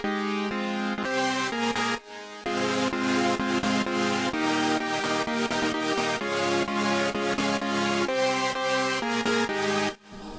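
Several layered EDM synth leads playing together without bass, a dense buzzy stack of chords in a pulsing rhythm with brief dropouts, loud and unmixed, no voices.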